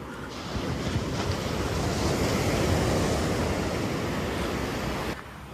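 Ocean surf rolls onto a long stretch of Pasir Ganting coral-stone beach in Pesisir Selatan, a continuous loud wash of breaking waves mixed with buffeting wind noise on the microphone, with no voices.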